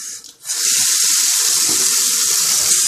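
Cold water runs from a tap for rinsing after shaving, a loud, close, steady hiss of flowing water that starts abruptly after a brief gap and continues unbroken.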